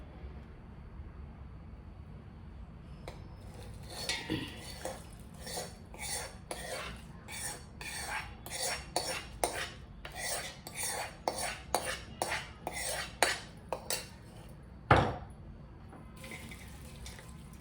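A metal spoon scrapes and clinks in a steel bowl as tempering is stirred into Andhra mango pickle, a run of quick, close strikes at an uneven rhythm with a sharp knock near the end.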